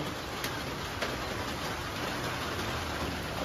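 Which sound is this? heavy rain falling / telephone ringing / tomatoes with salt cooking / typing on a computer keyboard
heavy rain falling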